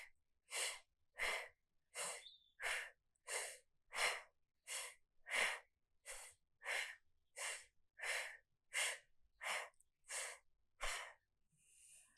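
Steady, audible breaths during a yoga core-bracing hold repeat in an even rhythm, roughly sixteen close, breathy exhalations and inhalations with short pauses between, and no talk.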